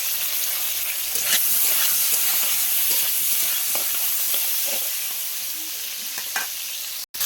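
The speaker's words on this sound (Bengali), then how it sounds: "পটলটা ভেজে নেব, কারণ চিংড়ি মাছ দিলে কড়াতে আটকে যায়।" Pieces of pointed gourd (potol) sizzle in hot oil in a wok, a steady bright crackle with occasional stirring scrapes, close and clear with no talking.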